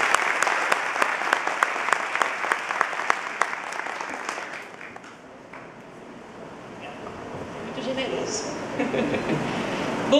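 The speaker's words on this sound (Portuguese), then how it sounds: "vamos receber uma calorosa salva de palmas" An audience at a congress in Caruaru gives warm applause to welcome a speaker. The clapping is dense and loud at first, then gradually fades away into quieter room noise.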